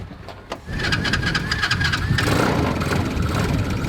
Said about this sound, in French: Un moteur de moto?